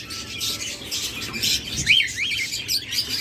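A big pair of cockatiels for sale chirp and whistle in repeated short calls over a busy background of other caged birds, close and clear.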